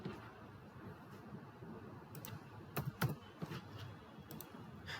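Keys tapped on a computer keyboard while a search term is entered, a quiet, soft clatter with a few sharper clicks clustered near the middle and sparse taps around them.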